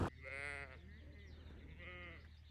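Sheep on a rural New Zealand hillside near St Bathans bleat twice, with one wavering call early and another a second later. Both are faint and fairly close over a low rumble of wind and ambient noise.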